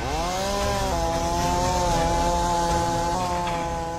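A chainsaw runs steadily at high revs cutting through wood during cleanup after an ice storm in Canada, loud and close, its engine pitch dipping slightly under load.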